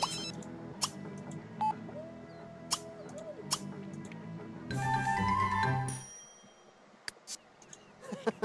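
Phone ringing in The Sims 3 Ambitions, heard as short chiming beeps and dings mixed with game music and scattered interface sounds, with Simlish chatter in the background.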